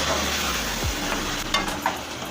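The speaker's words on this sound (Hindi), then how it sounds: "सबसे पहले हम इसको टमाटर को डाल के अच्छी तरह से मिक्स कर लेंगे" Sliced tomatoes are stirred in a pan for chana daal kofta curry, with a low steady sizzle throughout and a few soft spoon scrapes and clinks near the midpoint and toward the end, close and without talk.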